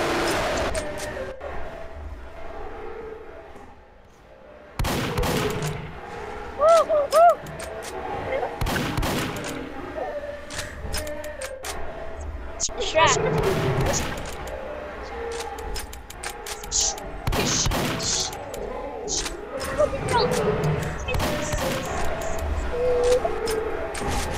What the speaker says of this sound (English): Should I shoot them? My ray guns!